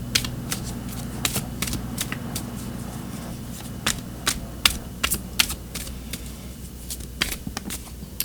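Oracle cards being shuffled by hand for a reading, a steady run of crisp papery flicks and riffles with sharp card snaps over a constant low hum, no talking.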